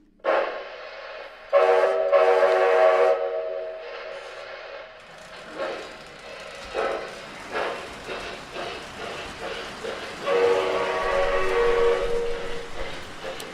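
Model train locomotive, Engine 18, starting up on a home layout, its whistle sounding in long steady blasts near the start and again later, with rumbling running noise and clicks in between.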